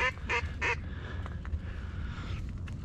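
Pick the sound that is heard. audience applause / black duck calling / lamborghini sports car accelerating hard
black duck calling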